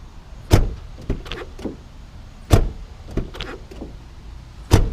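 Ford Crown Victoria hood hinges or latches creak in three sharp, separate bursts spaced about two seconds apart, each followed by fainter rubbing squeaks, close by with no one talking.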